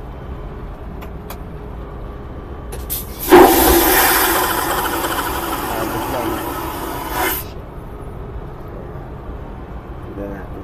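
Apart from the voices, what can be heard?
airplane toilet flush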